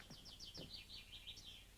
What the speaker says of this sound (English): What kind of bird's that sing? Swallow?